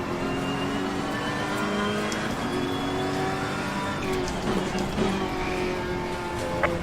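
GT3 race car engine in a sim racing game at Monza, a loud steady drone with rising and falling pitch as the car accelerates and shifts, close and continuous with no talk.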